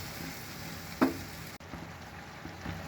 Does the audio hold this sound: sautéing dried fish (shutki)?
yes